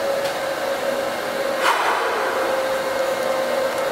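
A vacuum pulling suction on a crushed electrical conduit while a pull cord is drawn through it, a steady close whine with a faint tonal hum and a brief louder surge midway, no talk.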